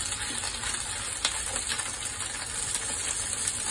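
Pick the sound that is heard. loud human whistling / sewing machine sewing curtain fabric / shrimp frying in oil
shrimp frying in oil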